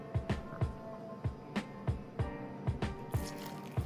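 Boiling hot water is stirred into cake batter for a copycat Crumbl toffee cake, giving a series of soft, wet, regular squelching taps, close by with no talk.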